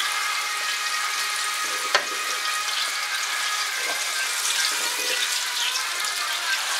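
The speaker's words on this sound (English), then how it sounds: "And actually fry your patty to your liking." A wild boar chorizo burger patty fries in a pan with a steady, dense hiss that stays even and close throughout, with only a faint tap or two breaking through.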